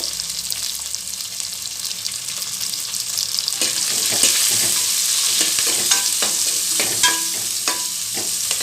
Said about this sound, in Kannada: ಇದನ್ನೆಲ್ಲ ಚೆನ್ನಾಗಿ ಫ್ರೈ ಮಾಡ್ಕೋಬೇಕು